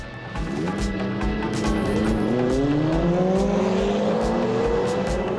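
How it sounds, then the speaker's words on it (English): A race car accelerates hard at the Goodwood Festival of Speed, its engine note climbing steadily through the gears, loud and close and continuous, with a brief tire squeal. "Are you full throttle, Zach?"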